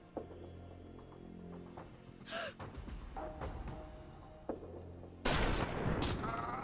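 A strong rifle headshot in a tactical time-bending roguelite game: several sharp gunshot cracks, then a loud burst of impact noise that carries on near the end, with a gasp-like breath in between.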